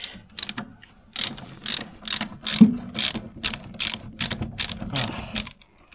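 A bolt being unscrewed on a car's suspension knuckle gives bursts of rapid ratchet clicking, close and crisp, with short pauses between runs.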